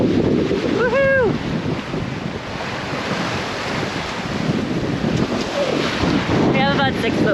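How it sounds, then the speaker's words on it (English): A spinnaker-rigged sailboat surfs down six-foot waves at sea in an 18 to 20 knot wind. Loud rushing water and heavy wind buffeting on the microphone go on throughout, with two brief whooping cries. "the wind's like 18 to 20 knots, and we're surfing these waves"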